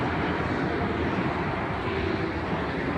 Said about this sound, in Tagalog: Ayun na naman, oh, may aeroplano na naman.